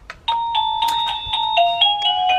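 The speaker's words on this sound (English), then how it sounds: "I hot glued this doorbell to this lanyard, and then when I press this" An electronic doorbell hot-glued to a lanyard plays a long chiming melody after a press, clear tonal bell notes stepping through a tune, loud and close with no talking.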